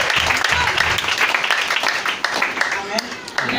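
A church congregation applauding, dense sustained clapping from a crowd lasting throughout, with voices mixed in under the applause.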